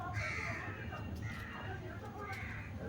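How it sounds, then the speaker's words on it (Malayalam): A pet bird gives harsh, crow-like caws close by, several rasping calls spread across a few seconds at a fairly loud level. "കിളി എന്തൊരു വലുതായിട്ട് കാണുന്നു"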